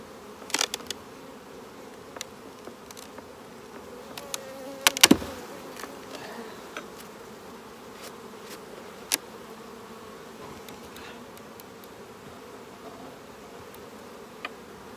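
Saskatraz honeybees at a swarm hive in an apiary give off a faint, steady buzz with scattered brief louder passes of individual bees close by.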